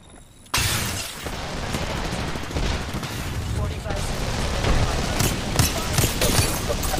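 Rapid gunfire in the Apex Legends battle royale video game, a dense, loud stream of shots and impacts that bursts in after a brief quiet start and keeps going, with faint voice chatter underneath.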